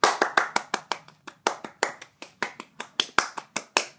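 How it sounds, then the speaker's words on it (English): A single person clapping close by, sharp crisp claps in an uneven quick rhythm, roughly four or five per second, with brief gaps and no talk. "let's hear a round of applause."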